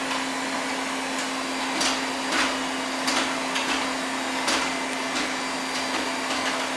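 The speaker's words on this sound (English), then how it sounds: "Vacuum, vacuum, vacuum." A child pushing a running vacuum cleaner: a steady motor whine with repeated rattling scrapes and bumps as it moves across the floor, close and continuous.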